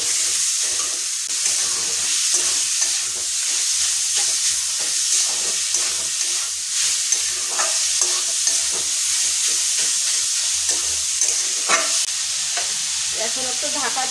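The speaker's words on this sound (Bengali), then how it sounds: "চিকেনটা দিয়ে বেশ কিছুক্ষণ নাড়াচাড়া করে নেব।" Chicken mince is stirred in a frying pan over a steady, moderate sizzle. A spatula scrapes and taps against the pan in an irregular rhythm, close up, with no talk.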